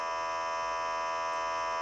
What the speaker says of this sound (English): It still makes that microprocessor noise